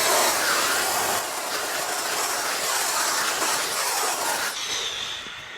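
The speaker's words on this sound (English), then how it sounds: "It's still steaming. But the vacuum is what helps pull the fabric to it so that it makes it just a lot easier." A Neakasa vacuum garment steamer hisses steadily as it steams fabric, a continuous broadband rush with a faint rumbling undertone, close and fairly loud throughout before easing slightly at the end.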